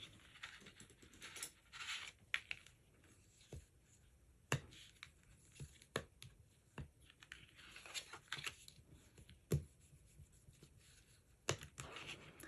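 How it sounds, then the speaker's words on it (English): A bone folder presses and slides along creases in folded paper, making faint scraping swishes broken by sharp taps and clicks at irregular intervals, close and quiet, with no talking. "we're going to take our bone folder and really reinforce those creases"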